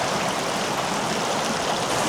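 Water rushing through the narrow canyon at Kanarra Falls, Utah, in March, a loud, dense, continuous roar of flowing water close by, with no talking.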